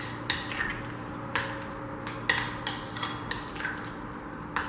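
A spoon stirs salsa of red onion, cilantro and black pepper in a bowl, giving a few light clinks and scrapes at an irregular pace, close and fairly quiet, with no talking.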